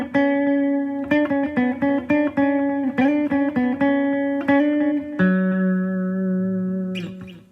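Guitar melody riff played between turnarounds, with a slide up to a D: quick picked and bent single notes, then a held note ringing out, loud and alone.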